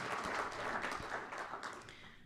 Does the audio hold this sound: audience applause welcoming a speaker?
yes